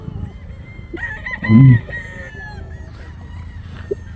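A breeder gamefowl rooster crows once nearby, a loud, drawn-out call rising over a low background murmur, with a brief cluck afterward.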